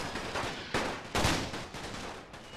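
An artillery and gunfire barrage rolls through a World War One battle in The Great War: Total War, with several dull, distant thumps and shots overlapping over a constant rumble.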